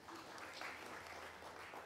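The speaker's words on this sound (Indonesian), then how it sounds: "Kita berikan tepuk tangan ya." A church congregation gives a round of applause at a Sunday service, a faint, even patter of clapping that carries on for a couple of seconds with no voices over it.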